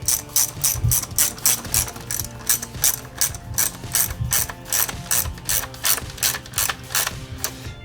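A ratchet wrench clicks in quick repeated bursts, loud and close, tightening the belt tensioner bolt on a Maserati Ghibli SQ4 with no talking.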